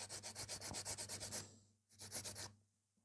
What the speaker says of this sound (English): Keep swapping your file, because if you file too long in one side, then you might end up over filing the nails.